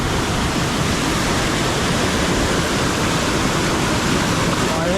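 A Konkan village stream swollen by torrential rain rushes in a loud, unbroken roar close by, with no pauses.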